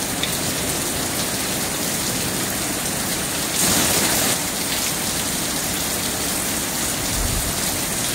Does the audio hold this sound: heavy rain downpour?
yes